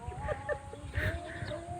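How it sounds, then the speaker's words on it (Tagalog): Short, repeated duck calls sound at a moderate distance, with a steady outdoor background beneath them. "May pato."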